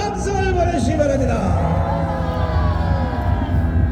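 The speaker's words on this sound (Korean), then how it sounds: "뜨거운 함성을 보내주시기 바랍니다" A large crowd at an outdoor rally cheers and shouts in a loud, sustained roar, with voices and whoops blending into a dense babble throughout.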